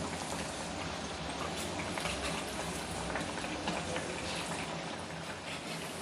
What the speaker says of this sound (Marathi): आता ह्या साईडनं पण तळून घेणार आहे मी.